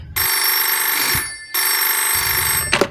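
A telephone bell rings as a radio play sound effect, two loud sustained electric rings separated by a short pause, heard close and alone with no voices.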